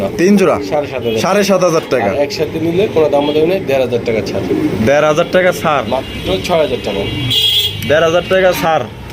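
Pigeons coo repeatedly at a pigeon sale, soft throaty calls mixed in under nearly constant conversation between people close by.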